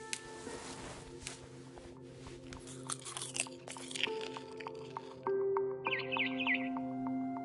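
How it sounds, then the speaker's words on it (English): Food is eaten and crunched in the video game What Remains of Edith Finch: a run of crisp, squishy bites and chewing sounds, fairly soft, over sustained tonal game music with faint chirps near the end. "I ate a lot of things that night."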